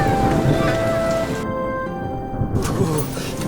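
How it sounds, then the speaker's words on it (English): Rain pours steadily in the Poppy Playtime video game, a dense, close hiss of falling water with a low rumble of thunder beneath it, no voices. "Get out of the rain."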